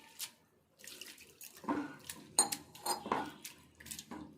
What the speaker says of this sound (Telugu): ఫస్ట్ అయితే అటుకులు ఇందులో వేసుకొని నీళ్ళు వేసుకొని